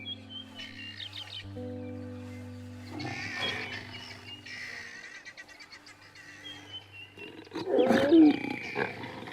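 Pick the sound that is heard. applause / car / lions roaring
lions roaring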